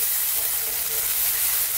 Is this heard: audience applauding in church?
no